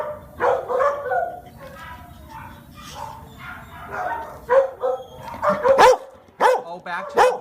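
A dog barks and yips repeatedly at an animal shelter in South Los Angeles, sharp close bursts in uneven clusters, some whimpering between them, with a soft voice in the background.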